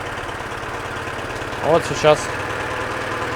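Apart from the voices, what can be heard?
Yamaha F9.9B outboard motor running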